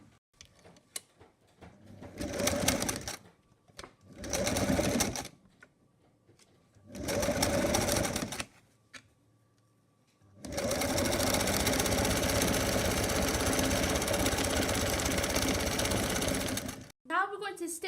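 Sewing machine running in several short stitching bursts along the side seams of a front-open designer jacket, then one long continuous run; close and steady, with brief pauses between passes.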